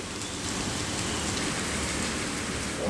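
Heavy monsoon downpour over Mumbai's western suburbs, a dense steady roar of rain pounding surfaces, loud and continuous throughout with no voices.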